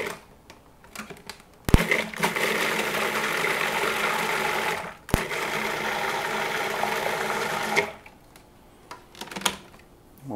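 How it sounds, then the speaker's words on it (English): A food processor whizzes a keto salad sauce seasoned with salt and black pepper, running loud and steady for about six seconds in two bursts with a short pause between, then stopping. "So we're just going to whiz this and make a sauce."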